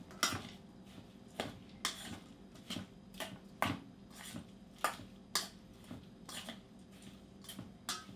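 A spoon or whisk stirs vegan Caesar dressing in a tiny glass mason jar, giving quiet, irregular clinks and taps against the glass, close and faint, with no talk.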